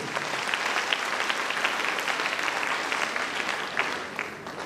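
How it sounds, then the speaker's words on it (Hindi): Loud, sustained applause from an audience at a talk in Patna, with dense steady clapping that fills the whole stretch and no speech over it. "जोरदार ताली आप सभी के लिए।"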